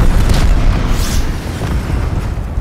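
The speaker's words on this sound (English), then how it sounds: "Enemy cruise missile launch detected." Heavy rumbling explosion in Call of Duty: Black Ops Cold War, a loud booming roar that rolls on and slowly fades, full of deep low-end energy.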